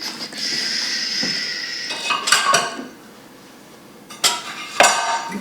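A hot cooking pot of curry oxtail carried over to a crock pot, with metal clinks and clanks of the pot and utensils, close and intermittent, a couple of sharp knocks near the end.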